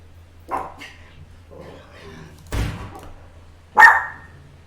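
Dogs barking in the video game SCUM after gunshots, three separate bursts of barks and yelps at irregular intervals over a low steady hum, moderately loud, no talk.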